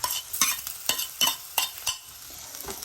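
Crushed ginger and garlic frying with onions in a pan for Kerala fish curry, sharp scraping spoon strokes in a quick irregular rhythm over a light sizzle, close up and clear, no talking.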